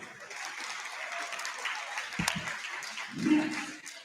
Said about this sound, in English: one more round of applause then